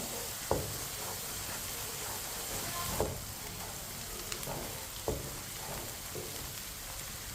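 Onions frying and browning over a medium flame, stirred with a spoon, give a steady quiet sizzle with occasional sharper scrapes and knocks of the spoon against the pan.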